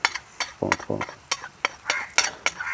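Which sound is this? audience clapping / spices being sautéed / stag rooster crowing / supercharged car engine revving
spices being sautéed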